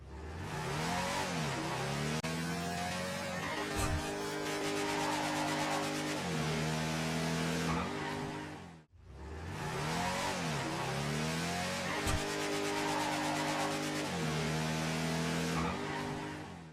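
An all-wheel-drive car in GTA 5 revs hard to redline, its engine note sweeping up and down in repeated loud, close surges across two near-identical runs separated by a brief dip.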